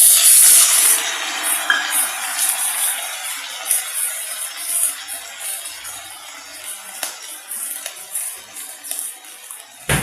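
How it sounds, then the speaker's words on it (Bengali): Water poured into a hot pan of green mango chutney with ginger, a loud, close burst of hissing steam that gradually fades to a softer, steady sizzle with no talking. "এবারে দিয়ে দিচ্ছি একটু জল।"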